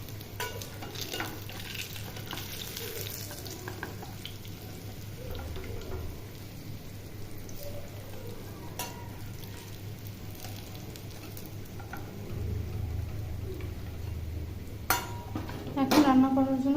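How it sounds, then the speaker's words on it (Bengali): Pieces of hilsa fish frying in oil in a home kitchen, giving a steady low sizzle with soft stirring scrapes, then a few sharp utensil clinks near the end. "মাছগুলোকে ভালো করে লাল করে ভেজে নেব"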